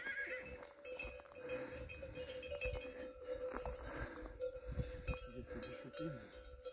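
Cowbells clank steadily among horses on a rural stretch of the Camino francés GR65 pilgrimage route, with faint hoof sounds and distant whinnies under a continuous busy outdoor background.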